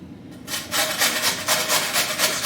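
Potatoes and onion being grated by hand on a kitchen grater, a series of rhythmic rasping strokes starting after a brief quiet moment, close and fairly loud, with no voices.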